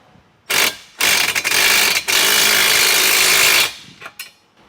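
Bolts being fastened on the bottom bracket of a MORryde heavy-duty spare tire carrier for a Jeep, a loud ratcheting power-tool whir in a few close bursts with short pauses between.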